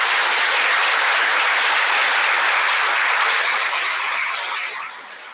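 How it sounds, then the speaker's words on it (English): Dense, loud applause from a large audience at a national cyber competition's opening ceremony, sustained and even throughout before tapering slightly at the end. "So a round of applause for that."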